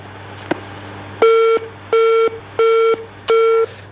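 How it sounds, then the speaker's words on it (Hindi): Four loud, evenly spaced electronic beeps repeat on a phone line, each a steady tone of about a third of a second with short gaps between, over a faint background hum. "ये जो बीप का साउंड आप सुनते हैं"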